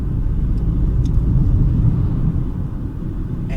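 Volvo XC40 compact SUV driving on the road, a heavy steady cabin rumble of engine and tyres from inside, with a few faint ticks and no talk.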